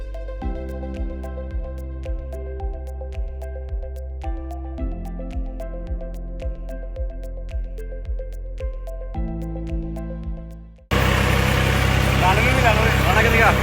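A tractor engine chugs steadily with a regular low putter and faint mechanical tones on a village drive, then cuts abruptly to a loud, dense wash of noise near the end.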